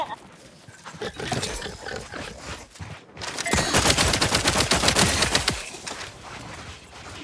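Rapid automatic gunfire from a weapon in the video game The Outer Worlds 2, a dense burst of shots with game battle sounds and speech mixed in, loud and close.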